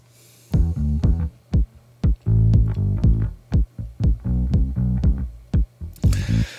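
Bass line processed with FabFilter Pro MB multiband sidechain compression below 200 Hz, playing a series of punchy, rhythmic low notes with short gaps between them. The notes are loud and alone, and a brief brighter hit lands near the end.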